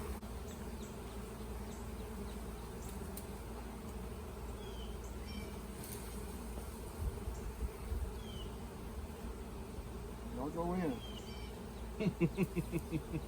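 Steady dense buzzing of a honeybee swarm throughout, with individual bees droning past closer toward the end; a person briefly speaks.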